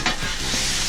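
A raspberry steak sauce seasoned with salt and pepper is stirred in a hot pan, giving a brief, close scraping swirl over a continuous sizzle.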